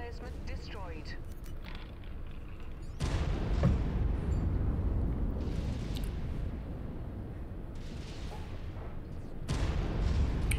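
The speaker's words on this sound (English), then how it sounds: "Blowing ammo. Artillery emplacement destroyed." Artillery emplacement explosions in the MechWarrior 5 video game land as heavy, booming bursts with crackling rumble, loud and close, swelling at several points over continuous battle noise.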